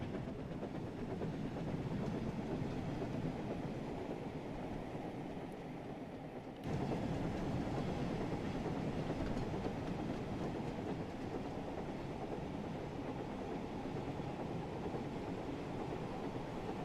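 A steam train runs on the West Somerset Railway in a Thomas and Friends railway video game, giving a steady, continuous rolling rumble with faint rhythmic clatter and no talk.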